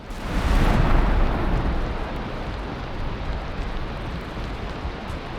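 Deep rolling thunder in a Valheim storm swells loudly at first, then settles into a steady rumble over a constant hiss of heavy rain.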